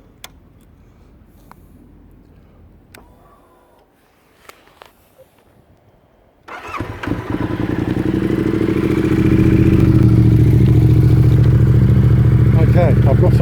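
A 2020 Yamaha Tenere 700 (XTZ690) parked in a shed fires up after a few quiet clicks and knocks, then settles into a loud, steady idle that runs continuously to the end.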